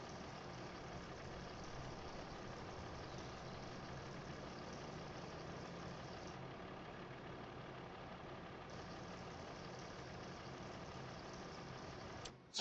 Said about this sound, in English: you got to have the tractor running in order to.